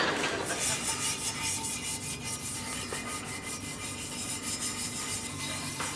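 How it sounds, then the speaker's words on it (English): Hand filing of brass-brazed joints on a bicycle frame, a steady continuous rasping scrape with repeated strokes, fairly loud and close, no talk over it. "Chaz, you and Danny have just been filing these joints"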